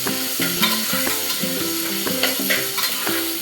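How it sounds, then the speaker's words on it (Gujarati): Onions fry with bay leaf and a red chili in a pan, a steady bright sizzle under rhythmic scraping and clinking strokes of a spoon as they are stirred. "પછી આ રીતે ડુંગળીને હલાવી દેવાની."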